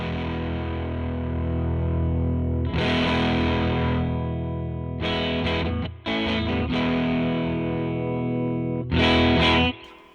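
Electric guitar played through a DoD 250 overdrive pedal, loud and distorted with sustained chords and a few short pauses and restrikes, heard alone.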